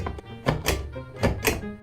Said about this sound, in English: It's that goddamn flippy thingy that you pull up on bathtubs to make the shower head